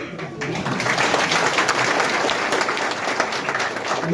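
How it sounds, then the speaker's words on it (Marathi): A crowd at a Jayanti festival programme claps steadily and densely, a continuous wash of applause that stays even and full from start to finish. "टाळ्या वाजू वाटलं तर जोरात वाजू"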